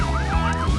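Police car siren wailing loudly and steadily up and down in a rapid sweeping pattern, close and continuous over a brief stretch with no talking.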